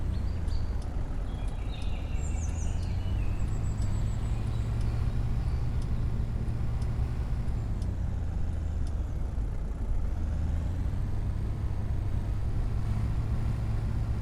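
A car climbs winding mountain roads in Austria, its engine giving a steady mid-pitched hum with a constant low rumble, close and unbroken, with faint birds chirping in the background.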